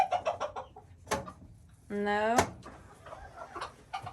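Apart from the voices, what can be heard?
hens clucking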